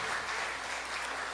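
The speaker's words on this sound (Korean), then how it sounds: "박수 한번 합니다." A church congregation at a Sunday service claps together, a soft, even wash of applause from many hands heard at a distance and lasting briefly.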